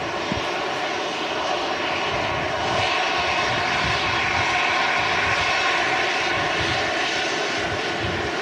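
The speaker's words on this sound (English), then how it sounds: "And this EasyJet is in from Jersey." An EasyJet airliner arriving at Manchester Airport in windy conditions, inbound from Jersey, gives a steady, loud engine roar that holds throughout without pause, with broadband rushing noise and no talk.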